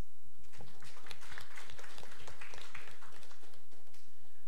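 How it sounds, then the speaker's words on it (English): A live-streamed academic audience at FKM UI claps for Dr. Triono, a dense round of hand claps sustained steadily throughout at moderate level, with no voices over it. "give Dr. Triono another round of applause"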